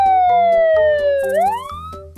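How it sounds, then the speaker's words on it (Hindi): A police siren wails loudly, its pitch sliding down and then sweeping back up, with a rhythmic thumping beat underneath. "जमीन के ऊपर पुलिस साइरन सुनाई देती है।"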